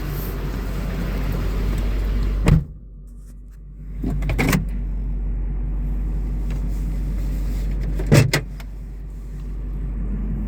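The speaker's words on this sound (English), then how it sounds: "Yeah, we better move my truck." A truck is moved outdoors on a rainy, chilly day, its engine a steady low drone close by, with a few brief sharp clunks like doors or shifting breaking through, no speech.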